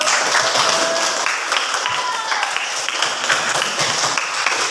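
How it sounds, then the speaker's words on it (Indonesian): A classroom audience applauds a student group's presentation with steady, dense clapping that lasts throughout, with faint voices mixed in. "Tepuk tangan untuk kelompok 1."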